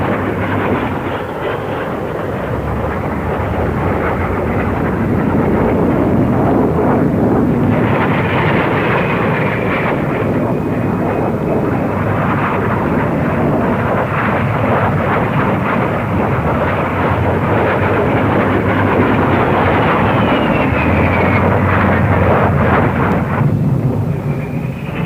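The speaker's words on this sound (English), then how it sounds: "The Jet Provost, also in production for the RAF, and that's used to introduce pupil pilots to the jet age." Jet Provost jet trainer aircraft flying past at an air show, a loud, continuous broadband roar that swells and holds for the whole pass, with a faint whine riding over the rumble and no voices.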